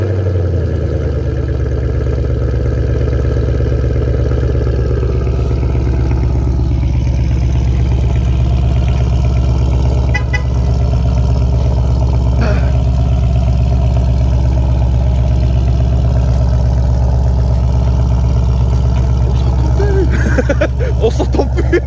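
A 2018 Ford Mustang GT V8 with an X-pipe and open exhaust fitted with valves fires up and holds a loud, deep, steady rumble with repeated revs, very close and continuous throughout.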